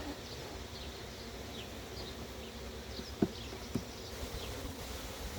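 Honey bees at a nucleus hive during a move into a ten-frame box: a faint, continuous buzzing swarm drone with a couple of sharp knocks partway through.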